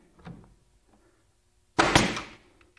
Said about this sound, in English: I'm going to toenail it in right off the top edge